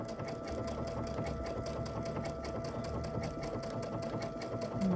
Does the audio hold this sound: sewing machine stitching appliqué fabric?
yes